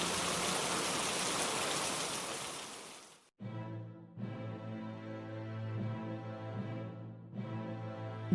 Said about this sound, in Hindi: अब देखो, लो फिर से बारिश शुरू हो गई।